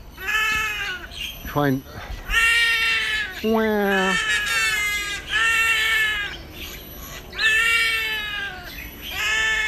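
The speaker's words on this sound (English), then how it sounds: "Have you ever heard a bird sound like a cat?" A bird in a bird park in Singapore gives repeated drawn-out, mewing calls that sound strikingly like a cat, loud and close, with a brief spoken remark between calls.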